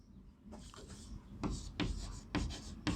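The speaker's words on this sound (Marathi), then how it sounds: "तर शेवटचा पॉईंट मी इथं लिहितो." Marker or chalk strokes on a board during a chemistry lesson on azeotropic mixtures: a series of short scratchy strokes with brief pauses between them, close and fairly quiet, with no talking.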